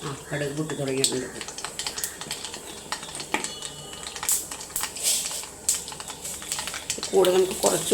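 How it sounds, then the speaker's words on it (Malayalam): Mustard seeds crackle in oil in a pan while a gooseberry pickle is being made, giving scattered sharp pops and ticks close by, with brief bits of voice at the start and end. "കടുക് പൊട്ടി തുടങ്ങിയിട്ടുണ്ട്."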